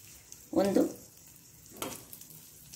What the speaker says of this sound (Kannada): 6 ಚಮಚದಷ್ಟು ತೆಂಗಿನ ತುರಿ. ಇದನ್ನು ಇದರಲ್ಲಿ ಒಳ್ಳೆ ಫ್ರೈ ಮಾಡ್ಕೊಳ್ಳೋಣ.